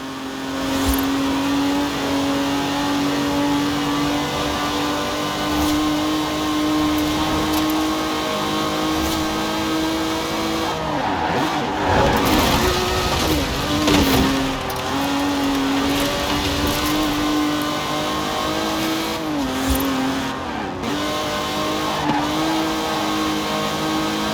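A 1960s Aston Martin DB5 Vantage grand tourer with side-draft carburettors runs in Forza Horizon 4, its engine droning loud and steady throughout with rising and falling revs and a few sharper bursts of throttle.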